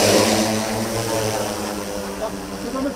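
A UAV drone aircraft flies during a firefighter drone training session in Bursa, giving a steady, fairly loud propeller drone with a constant tone throughout, with people talking over it.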